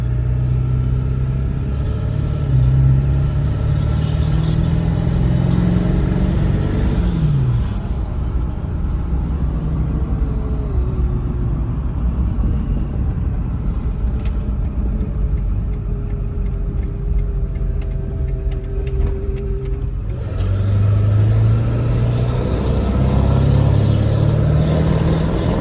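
A Ford F350 pickup with the 7.3 Powerstroke diesel engine revs loudly while driving, climbing and dropping in pitch through several throttle pulls, with a steady low drone between them and no speech.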